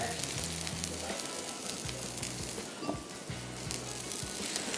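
Egg omelette with plenty of green onion frying in a pan over low heat, a steady close sizzle with a few faint stirring or scraping touches, no talk.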